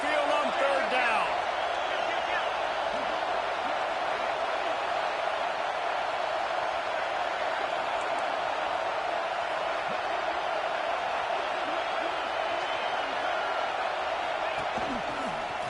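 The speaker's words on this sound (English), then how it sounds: "The Tide crowd rolling noise down onto Saban Field on 3rd down." A football stadium crowd roars on third down at Saban Field, a sustained distant wall of noise that holds steady throughout, with a broadcaster's voice over it.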